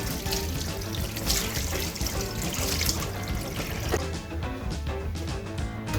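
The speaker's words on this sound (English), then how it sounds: "And then also rinse your salmon." A salmon fillet is rinsed under a running kitchen tap, the water splashing and trickling steadily into the sink, close and continuous, with no speech.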